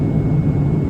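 Inside a jet airliner cruising at about 30,000 feet and 829 km/h, the cabin fills with a steady, dense low roar of engine and airflow noise, constant and close with no talking.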